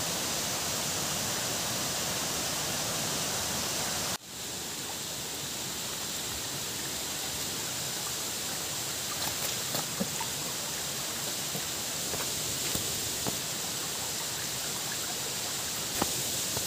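A forest river flows steadily beneath a bamboo footbridge on a mountain trail, its broadband rush continuous and fairly close, with a brief dip early and a few small splashes or knocks later.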